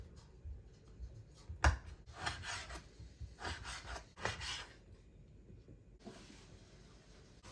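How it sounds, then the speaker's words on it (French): A knife slices guanciale on a board for carbonara, making quiet, rasping strokes in irregular bursts with a soft thud partway through. "Ça part pour la découpe de la guanciale."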